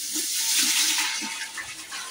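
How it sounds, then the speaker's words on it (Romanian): Water gushes into a cooking pot for traditional Transylvanian green salad sour soup, a loud, close, rushing pour lasting about two seconds with a hollow splash, and no voices. "Și acum punem apă."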